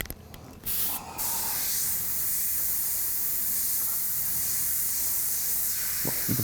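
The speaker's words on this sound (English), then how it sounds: "You can tone the airbrush down a little bit. If it's too much pressure, you'll get a little splattering" An airbrush sprays plain reducer, no paint, onto a biomechanical skull at close range, giving a steady airy hiss that runs almost without a break for several seconds after a couple of short bursts at the start.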